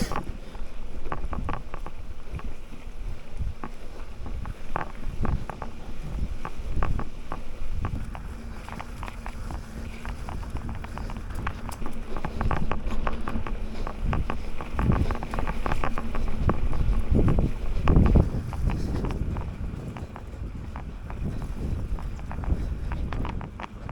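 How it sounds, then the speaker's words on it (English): Wind buffets and rumbles across the microphone in uneven gusts on a trail ride, with faint thumps and movement underneath and no talking. "It's windy too, but that wind actually feels good"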